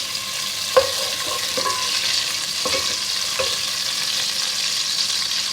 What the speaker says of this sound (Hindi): इसमें हम बादाम डालेंगे अपने, किशमिश,